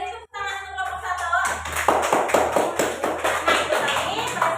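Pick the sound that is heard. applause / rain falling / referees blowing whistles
applause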